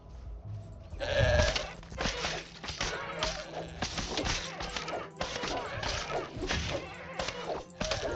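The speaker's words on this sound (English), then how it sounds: "And we've got some sheep here." Sheep bleat repeatedly nearby amid shuffling and knocking noises, with a brief voice at the start.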